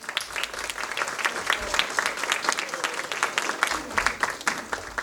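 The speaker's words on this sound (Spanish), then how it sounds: "Un fuerte aplauso, por favor." Audience applause at a talk on Japanese video games, a steady crowd of clapping with some scattered voices, moderately loud and continuous.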